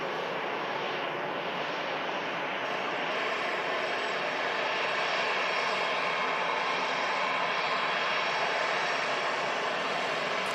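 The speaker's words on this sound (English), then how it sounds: "Lufthansa arriving in from Frankfurt, A320 with the Sharklets as well, looking awesome" Lufthansa Airbus A320 with sharklets arriving from Frankfurt at Manchester Airport: a steady, broad jet engine rumble and hiss that holds evenly throughout, with no talking.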